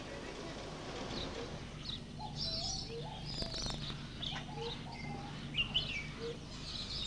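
Birds at Taronga Park Zoo in Sydney chirp and coo in scattered short calls, moderately distant, over a steady background hum with faint occasional clopping.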